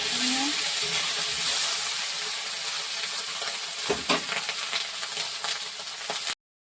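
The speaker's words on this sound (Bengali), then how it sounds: "টমেটোটা দিয়ে চামচ আদা বাটা দিয়ে দিলাম" Tomato and ginger paste frying in a pan, a steady close sizzle with hissing steam that holds throughout and eases slightly toward the end, with a couple of brief clinks of a spoon midway.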